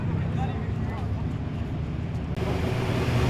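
A Hyundai street car pulls away from a car meet with a steady engine rumble, passing near amid traffic noise while people talk.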